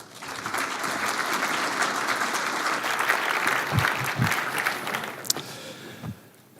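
A conference audience at a NATO cyber defence event applauds steadily to welcome a speaker, with dense, even clapping that carries for several seconds before thinning out, and a few louder claps and thumps near the end.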